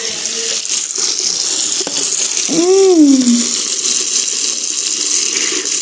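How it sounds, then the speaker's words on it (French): Cold water runs steadily from a tap in a continuous close gush, with a short vocal sound rising over it midway. "De l'eau froide ou de l'eau chaude?"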